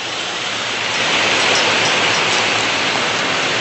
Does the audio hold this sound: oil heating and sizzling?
no